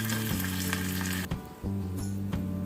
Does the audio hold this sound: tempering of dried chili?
yes